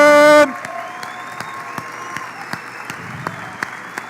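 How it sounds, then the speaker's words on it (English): Audience applause at a keynote event, a broad wash of clapping following a loud, sustained tone at the very start, with steady crowd applause and occasional sharper claps continuing to the end. "Give yourself a big round of applause, please."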